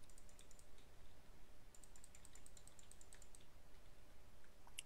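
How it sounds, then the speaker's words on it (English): Rapid computer mouse clicks come in quick bursts during a Nuclear Throne gaming session, faint and close against a low background hum, with a brief pause before another flurry. "I just hear you furiously clicking"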